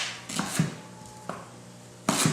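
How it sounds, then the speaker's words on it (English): A few sharp knife chops dicing leek on a cutting board, spaced irregularly with quiet gaps between, close and crisp. "we're going to dice these up into little pieces like this"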